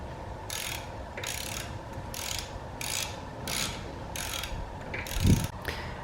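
A hand ratchet loosens and removes bolts during an AC delete kit install in an engine bay. About eight evenly spaced back-and-forth strokes produce close, rhythmic clicking, with a dull knock near the end.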